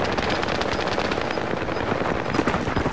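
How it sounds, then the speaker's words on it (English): Dense, loud rapid gunfire from enemies in Call of Duty Warzone, continuous bursts of automatic weapon fire with overlapping shots and impacts, close and unbroken, no talk over it. "they all shooting at me"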